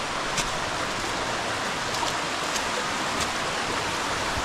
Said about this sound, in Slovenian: Evo in tukaj je ta slapek.